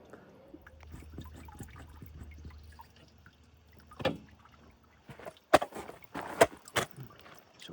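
Coolant water draining and splashing from hoses of a Boxer-engined classic car, faint trickling at first, then sharp splashes and drips hitting the ground in bursts, with no voices.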